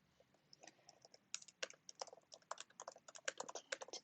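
Someone types on a computer keyboard at close range. The keys make a quick, uneven run of crisp, quiet clicks that grows busier and denser toward the end.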